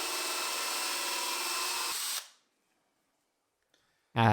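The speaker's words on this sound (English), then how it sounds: "So we just drilled in a circular hole into this piece of template material." A power drill whirs steadily while boring a circular hole into a piece of template material, loud and close, then stops abruptly and falls silent before a brief thump at the end.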